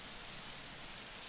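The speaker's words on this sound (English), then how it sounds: "it's starting to rain" Steady rain falling in a video game, an even wash of dense patter filling the scene at a moderate level, continuous throughout with no breaks and no voices.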